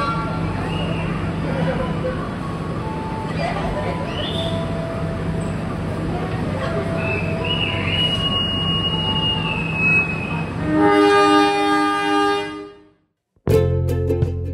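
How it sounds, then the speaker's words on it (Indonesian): The Gajah Wong economy premium train travels by night from Yogyakarta to Jakarta, a steady rolling rumble heard from inside with faint squealing tones and background babble, then a sudden drop to near silence before noise resumes. "kereta api Gajah Wong ini masih belum mampu melaju sampai kecepatan maksimal 120 km per jam"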